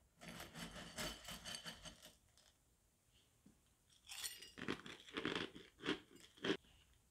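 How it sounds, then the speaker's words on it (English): Ovi O's cereal being crunched while eaten, two bursts of close crisp chewing crunches separated by a brief quiet pause, no talk. "Now, time to try the cereal."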